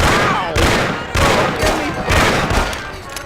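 Gunshots in the Mafia video game: several loud, sharp blasts arrive in a quick irregular series, each followed by a short ringing tail, with shouted game dialogue mixed in around them.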